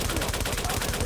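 Dense gunfire from a sniper rifle in a survival video game, a steady loud crackle of shots with no talking.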